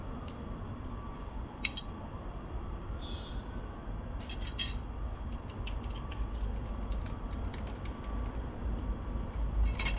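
Stock sprocket cover bolts come out of a Honda CRF300L with a 4mm Allen key. Sparse metallic clicks and light taps sound up close over a steady low background hum.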